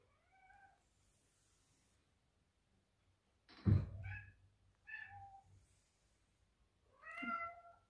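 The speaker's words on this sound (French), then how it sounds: "Vous avez en musique de fond le miaulement des petites minettes parce que j'ai fermé la porte" Small domestic cats meowing repeatedly from behind a closed door, several distinct mid-volume calls spread across the stretch, with a dull thump of the door partway through and quiet room tone between.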